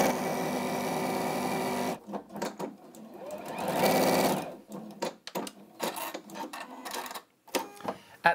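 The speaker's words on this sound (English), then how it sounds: "You just fold those to the edge there and you sew to the end." An Elna 720 Pro sewing machine stitches fabric to the end of a bag-making seam, a steady close whirring run that pauses, then resumes in short bursts of stitching amid handling noises.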